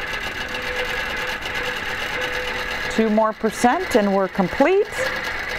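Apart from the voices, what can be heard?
QBOT robotic quilting machine stitching a meander design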